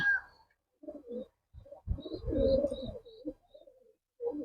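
A Saharanpuri female pigeon gives soft, throaty coos close by, in a few separate bursts with short quiet gaps between them.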